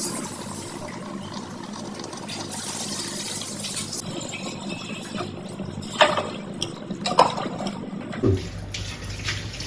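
Water runs steadily into a cooking pot for vegetables in a Tamil kitchen. It is a soft continuous pour with a few louder splashes near the end and no talking.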